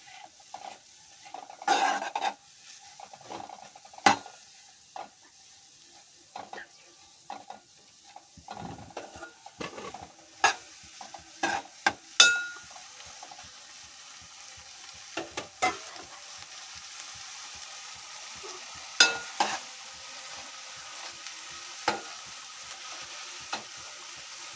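Paneer masala ingredients frying in a pan toward golden, a soft steady sizzle broken by repeated sharp scrapes and clinks of a spoon stirring against the metal.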